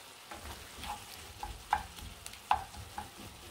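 Garlic fries in a pan for tuna pasta, a soft, quiet sizzle broken by a few sharp clicks and taps of a utensil stirring against the pan.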